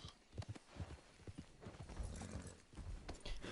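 Horse hooves clip-clop in a video game, making a muffled, uneven trot at moderate distance over a low, busy background.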